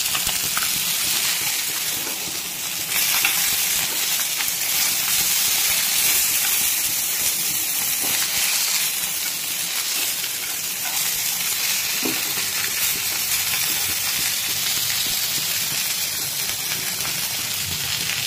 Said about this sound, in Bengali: এগুলো মাছগুলো প্রায় ভাজা হয়ে যাচ্ছে